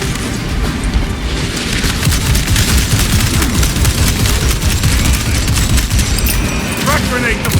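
Frag grenade blasts and rapid gunfire in Warhammer 40000: Space Marine 2, a dense, loud barrage of booms and crackling shots throughout, with combat voices mixed in.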